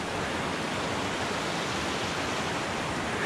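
A meltwater stream pouring down from a waterfall in high mountain terrain above 10,000 feet makes a steady, loud, broadband roar of rushing water with no voices.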